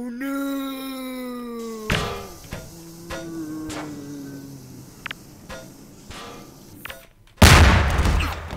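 A bomb exploding in a video game: falling, whistling electronic tones and a few sharp clicks lead into one loud, broadband blast near the end that roars on to the close.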